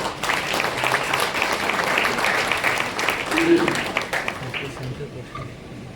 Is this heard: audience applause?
yes